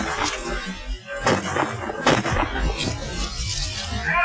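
Blank-fire gunfire during a take on the location set of National Treasure (2004), a dense, rough barrage of loud cracks and booms, close and continuous, with shouting voices mixed in.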